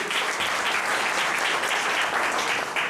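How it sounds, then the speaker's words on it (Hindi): Sustained audience applause at a career guidance seminar, dense steady clapping from a large crowd filling the whole stretch at an even loudness, with no talk over it. "एक बार जोरदार ताली बजा दीजिए।"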